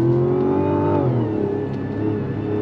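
A Mazda CX-90 straight-six SUV accelerates hard, its engine rising in a steady, strong drone that dips a little in pitch partway through, sounding loud and continuous from close by with no talking.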